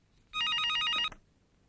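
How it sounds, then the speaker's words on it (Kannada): A telephone rings in one sustained electronic burst of about three quarters of a second, bright and fairly loud, then cuts off into a quiet room with no talking. "ಸತ್ಯ ಫೋನ್ ಮಾಡಿದ್ದಾನೆ."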